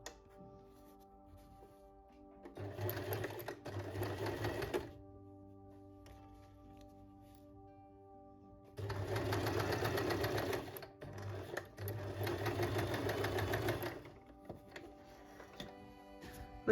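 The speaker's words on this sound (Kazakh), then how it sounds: "Енді қазір тігін машинасында закрепка беріп бастап, соңын тігіп шығамын, сосын бекітпе беріп аяқтаймын." A sewing machine stitching a fabric table runner, quiet and close, running in short bursts of steady whirring separated by pauses. The longer runs come in the second half, and a faint background hum carries on throughout.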